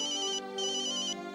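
Electronic phone ringtone of an incoming call, playing alone in two clear bursts of bright repeating tones separated by a short pause, steady and moderately loud.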